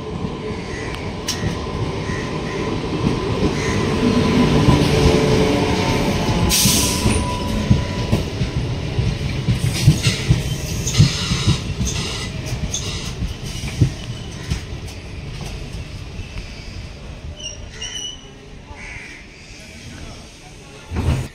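The Santosh Prabhasini Express arriving at a station, a loud rumble that swells and then fades, with rail clatter and a wheel squeal standing over it, while people talk nearby.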